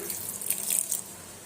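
A thin stream of soaking water splashes and trickles into a grinder while making unniyappam batter, for about a second, then fades. The sound is close and fairly quiet.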